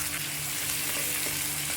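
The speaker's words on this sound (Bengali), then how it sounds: "আমটা ভালো করে ভাজা ভাজা হোক," Mango pieces frying in a pan of spiced oil, a steady close sizzle with soft stirring crackle throughout, no voices.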